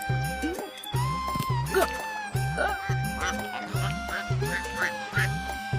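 Cartoon duck quacking in a village animal story for kids, a steady run of loud, nasal quacks repeating about twice per second, with brief honk-like calls layered over a low rhythmic backing beat.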